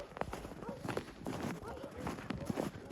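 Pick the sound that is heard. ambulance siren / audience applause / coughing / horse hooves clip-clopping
horse hooves clip-clopping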